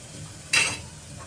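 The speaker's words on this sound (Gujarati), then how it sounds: "હવે નાખી દેવાની મકાઈ." Corn added to a pan of gravy spiced with Kashmiri chilli in a village kitchen: a single quick splashing, sizzling burst close by, rising out of a low background hiss and fading within a fraction of a second.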